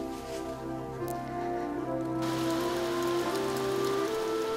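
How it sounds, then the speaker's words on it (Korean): Spring rain falls steadily on surfaces, a soft even patter under a sustained musical tone. "봄비가 그칠 줄 모르고 내렸다."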